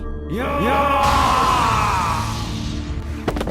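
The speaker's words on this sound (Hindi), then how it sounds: "पर अभी भी उसकी चीख चारों तरफ गूंज रही थी।" A slain ifrit demon's scream rises in rising, wavering shrieks and then swells into a loud, reverberant roar that echoes all around before fading out.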